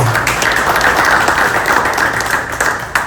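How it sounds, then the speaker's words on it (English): A crowd bursts into sustained applause, dense steady clapping filling the room for a few seconds without pause. "huge applause for Sohail as well"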